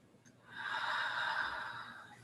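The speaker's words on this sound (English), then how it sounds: "Nice, long, slow cleansing inhales. And slow releasing exhales." A single slow, deep breath swells in softly and fades over about two seconds during a yin yoga class, quiet and close with no talking.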